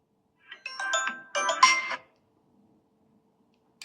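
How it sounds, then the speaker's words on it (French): Ringtone on a vivo Y21 phone, a short bright melodic burst of chiming tones lasting about a second and a half, then silence with a faint blip at the end. "Vous voyez, donc là c'est la sonnerie."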